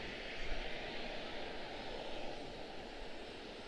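Aircraft engine roar at Washington Dulles airport, a steady broadband rumble with no clear rise or fall, heard at a moderate distance and fairly faint, as a heavy jet waits or taxis.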